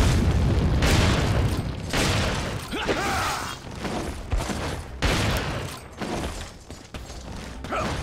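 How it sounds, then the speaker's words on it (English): Shotgun blasts boom in Resident Evil 4 during a boss fight against Krauser. The loud shots come several seconds apart, with mechanical clanks and creaks between them. "Now I'm gonna shotgun this motherfucker."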